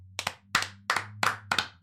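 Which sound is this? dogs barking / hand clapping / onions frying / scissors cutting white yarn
hand clapping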